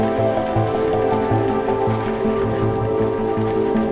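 Everyday Scottish rain falls as a steady, dense patter of drops on a surface, close and loud. A low humming tone runs beneath it, with no voices.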